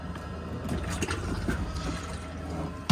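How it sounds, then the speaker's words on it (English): Fresh water flowing into the bowl of a Chausson 788 motorhome toilet, a steady close rushing trickle that runs for a few seconds and ends in a sharp knock. "and you'll get a flow of fresh water into the bowl."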